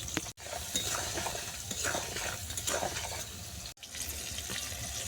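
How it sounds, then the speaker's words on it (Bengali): Shrimp fry in oil seasoned with turmeric and salt, giving a steady, quiet sizzling hiss with occasional stirring scrapes, broken by two brief gaps. "এরপর বড়ার তেলেতেই চিংড়ি মাছগুলোকে ভেজে নেব।"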